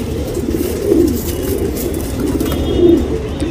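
A female tournament-class pigeon coos softly twice, close by, over a steady low background hum.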